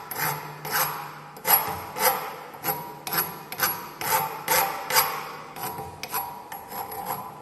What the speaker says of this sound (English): Now these sharp edges, the burrs which are left over there, will clear it off with a file.